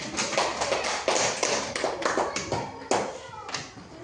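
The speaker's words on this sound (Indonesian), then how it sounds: "tepuk tangan buat Den." A school class clapping hands for a pupil after a reading, a series of uneven, fairly sharp claps in loose bursts, with children's voices faintly mixed in.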